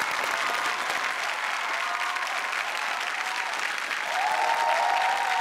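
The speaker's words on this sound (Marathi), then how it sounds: "जोरदार टाळ्या आमच्या कलाकारांसाठी झाल्या पाहिजेत" Sustained applause from a studio audience cheering performers on the Marathi comedy stage show Chala Hawa Yeu Dya: dense, even clapping that carries on throughout and swells slightly toward the end, with no voices over it.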